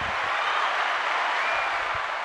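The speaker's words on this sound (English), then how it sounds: "The crowd's going crazy." A crowd claps and cheers for a DJ guest on a podcast, a steady dense wash of applause throughout, moderately loud and unbroken, with no speech over it.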